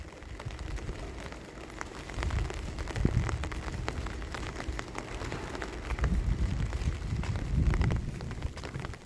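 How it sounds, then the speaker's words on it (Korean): Cold rain falls outdoors among autumn leaves, a soft continuous patter with scattered drips and swells of wind-like rush, no voices. "비가 오고 있어."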